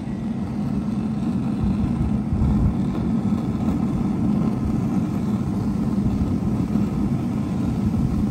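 A Solo Stove Pi Prime propane pizza oven burning after being lit, giving a loud, steady low roar that holds unchanged from start to finish, close by with no talk.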